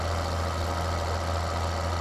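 Steady, droning tractor engine idling in a farming video game, a constant low rumble with no change in pitch or level, heard alone without talk.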